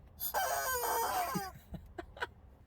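A rubber chicken toy lets out one loud, drawn-out squawk, followed by a few short, fainter squeaks trailing off.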